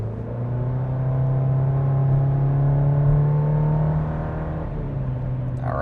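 A 2026 GMC Canyon AT4 pickup with its 2.7 liter TurboMax engine pulls up to speed on a test drive, a steady, rising engine drone heard from inside the cabin.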